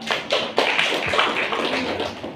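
An audience at an umrah gathering gives a brief round of handclaps, crisp and sharp at first, then thinning into a scattered patter, close and fairly loud.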